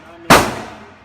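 A single sharp pistol shot rings out close and loud, firing 115-grain ammunition at an indoor or range setting, with a quick attack and a decaying tail.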